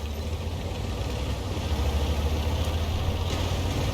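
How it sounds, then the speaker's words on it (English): Armored tank engine idling in a video game, a steady low rumble that holds at an even level for the whole stretch with no other sounds on top. "at least we've got engine noises this time"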